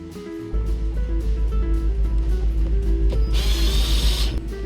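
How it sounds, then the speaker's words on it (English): Power driver screwing a sun-weakened trim piece back in, a steady close motor whine held for several seconds, rising to a higher strained pitch near the end, with no talk. "Screwing it back in."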